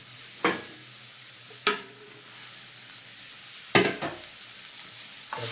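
Capsicum and onion sautéing in a pan, a steady soft sizzle broken by four sharp scraping stirs of a spatula spaced a second or two apart, close and fairly quiet, no voices.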